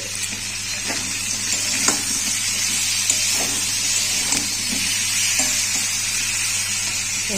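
Potatoes fry in oil, loud and near, with a constant hissing sizzle and a few sharp spatula taps and scrapes from stirring.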